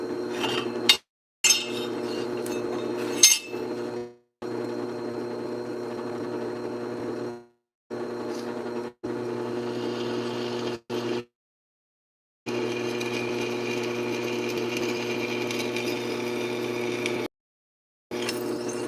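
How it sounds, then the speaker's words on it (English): A drill press hums steadily with a whining, grinding tone as a cobalt bit cuts into metal, stopping and restarting several times, close and with no talk. "this drill press is working way better than the small one"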